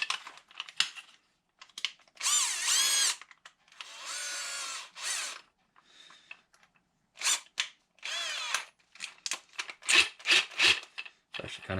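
A power drill fitted with a Kreg concealed hinge jig bores through a cabinet door in several bursts, whining up and down with short gaps, mixed with clicks and handling knocks up close.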